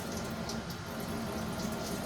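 Hot water runs from a tap for washing dishes, a steady splashing hiss that stays even and close, with no voices over it.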